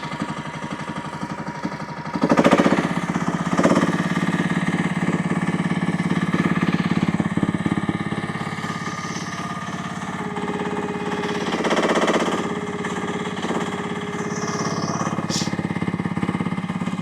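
A UME10P mini excavator engine runs steadily right after starting, a loud, continuous mid-pitched drone with a brief rise near the start and slight swells in revs later on, with no talk.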